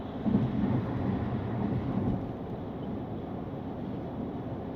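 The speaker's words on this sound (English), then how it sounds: "apart from this concrete slab here where there is more tire noise, even with that, to be honest, it's still very well insulated in here" Inside the cabin of a 2026 Porsche 911 Targa 4 GTS at highway speed with the roof in place, a steady low tire and road roar drones continuously, a bit louder at the start over concrete slab.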